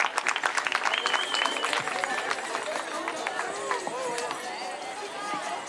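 An audience applauds at a dance school's farewell performances of saya and caporal groups. Dense, steady clapping crackles throughout, mixed with crowd voices and cheering, loudest at the start and easing slightly toward the end.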